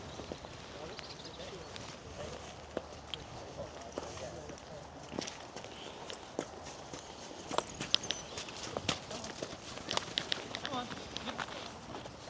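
Horses walk around a racing stable yard, their hoof clip-clops scattered and irregular over a busy outdoor background with people talking nearby.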